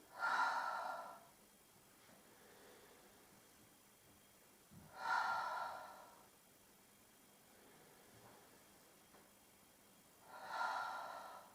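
Slow, audible exhalations during a Pilates exercise, three breathy puffs spaced several seconds apart, close and quiet in a still room.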